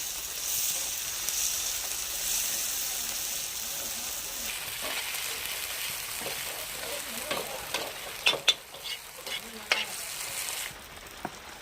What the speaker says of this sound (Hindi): और अब डालने जा रहे हैं हरी मिर्ची, प्याज और टमाटर, और अब चलाएंगे